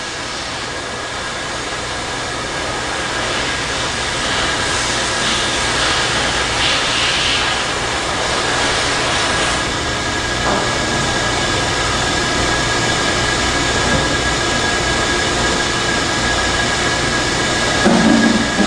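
An 870-S wafer spin dryer runs its rotors through a dry cycle, a loud, steady whirring roar with broadband rushing air that holds constant throughout.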